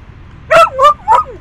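Dogs at a small dog park at a truck stop: three quick, close barks in a short burst over quiet background, no talking.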